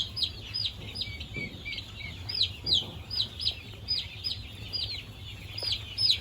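Chickens cluck and chirp repeatedly in a busy, overlapping rhythm, moderately close, with a low background hum.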